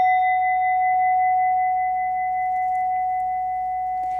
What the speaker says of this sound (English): use your mallet to strike the rim of the bowl and just allow it to resonate